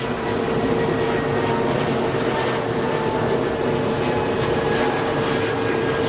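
An airplane climbing out after takeoff from Geneva Airport, its engines a steady, broad roar with a faint whine, holding constant and fairly loud throughout with no voices.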